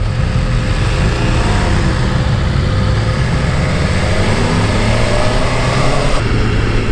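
A BMW S 1000 RR inline-four sportbike is ridden on the road. A loud, steady, broad engine and wind roar holds without a break, with no clear revs or gear changes.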